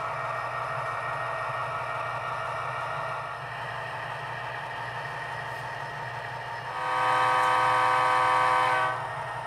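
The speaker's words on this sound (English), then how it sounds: "a short horn" Athearn Genesis model train locomotive with its horn sounding: a steady mechanical hum, then a short, loud horn blast near the end, with no voices.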